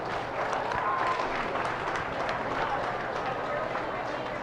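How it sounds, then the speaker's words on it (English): An audience at a 4-H/FFA dairy cattle show gives a sustained round of applause for the Ayrshire exhibitors, a continuous wash of clapping, while an announcer's voice carries over it. "let's give all these exhibitors a big round of applause for an excellent Ayrshire show"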